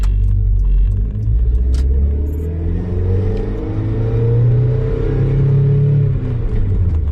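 A Mazda Miata MX-5 NB engine drones at moderate revs on part throttle uphill in second gear, a steady low rumble that slowly rises in pitch as the car pulls forward, loud and close.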